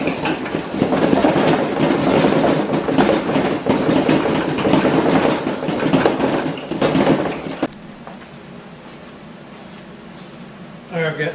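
Honey extractor spinning with frames loaded inside, a loud continuous rattling, clattering whir for about seven seconds, then it stops abruptly and only quiet room sound remains, with a person talking over the noise.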